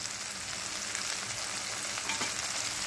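Okra frying over high heat in a pan with coriander and curry leaves, giving a dense, steady, close sizzle that holds evenly throughout with no talking.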